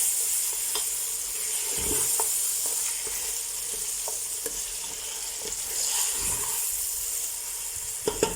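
Chicken sizzling in ghee with coarsely crushed cumin, turning golden brown: a steady bright hiss of frying with occasional stirring scrapes and soft pops, close and continuous.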